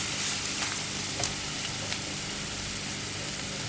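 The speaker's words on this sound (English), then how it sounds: "Now, I'm only going to make a blonde roux" A blonde roux sizzles and fries steadily in a pan while being stirred, a dense continuous hiss with a few faint scraping touches and no talking.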